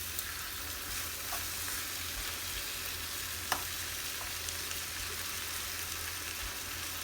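Beef steak strips sizzle in a pan over medium-high heat, a constant close frying hiss with faint crackles and one small clink partway through.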